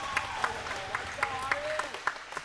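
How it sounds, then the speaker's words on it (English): Scattered hand clapping rises from a crowd at a girls' 8th grade volleyball regional quarterfinal in a gym, sparse and moderately loud under an announcer's amplified voice. "Let's give a big round of applause to the Irish."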